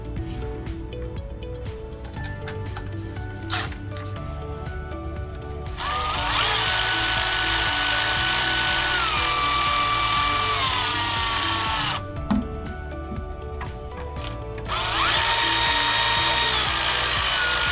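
A ratchet tightens transmission bolts on a Mercedes 7G-Tronic 722.9 gearbox, with close clicking in quick bursts, separated by brief pauses and punctuated by loud, sustained whirring stretches.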